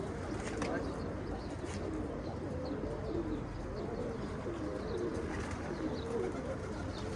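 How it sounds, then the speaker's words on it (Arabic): Iraqi Habriyat pigeons at a loft launch into flight amid soft cooing and occasional chirps, set against a constant outdoor background rumble, while someone talks quietly nearby. "هاي ما شاء الله حبريات، هاي الانطلاقة مالتهم ما شاء الله"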